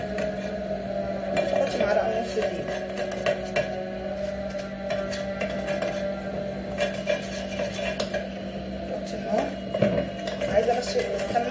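Ghee and flour being stirred in a pan for béchamel, with a spoon clinking and scraping against the metal in irregular taps, close to the mic, over a low steady hum.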